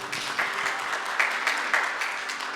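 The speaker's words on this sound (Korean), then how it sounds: "바비 형제 박수로 환영하겠습니다." A church congregation at Sunday worship claps to welcome a newcomer, with steady, moderately loud applause and a few sharper individual claps standing out.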